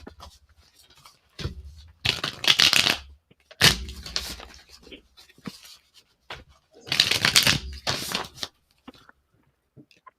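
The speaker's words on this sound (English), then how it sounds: "I actually shuffle. I don't do the internet shuffle." Playing cards shuffled by hand at a talk-show table, three crisp riffling bursts separated by quieter handling, close and clear with no talk over them.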